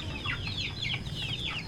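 Free-range village chickens clucking in a rapid, repeated pattern close by, a flock chattering over a low farmyard rumble.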